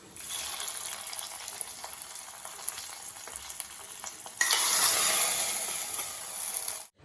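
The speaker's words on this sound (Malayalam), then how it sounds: "ഇത് നമ്മുടെ കറിയിലേക്ക് ഒഴിച്ചു കൊടുക്കും." Hot tempering with curry leaves is poured into an ash gourd curry made without dal. A low frying hiss suddenly bursts into a loud, bright sizzle that roars for a few seconds, then cuts off.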